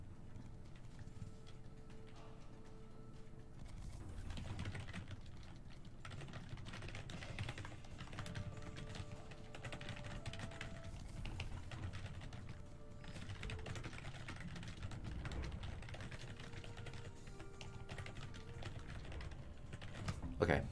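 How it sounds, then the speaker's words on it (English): Keys clatter on a computer keyboard in quick irregular bursts, faint and close, while people talk over it for most of the stretch. "that was typing away"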